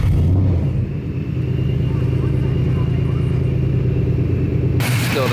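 A 1965 Ford Mustang engine runs close by with a loud, deep rumbling idle that dips briefly and then holds a steady throb, the hood closed over it.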